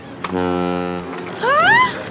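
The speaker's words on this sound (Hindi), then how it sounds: "हॉर्न, ये अपनी बोट का हॉर्न है।" A sustained, buzzing animated cartoon boat horn blares for under a second, then a voice follows with a rising, wavering cry; loud and close.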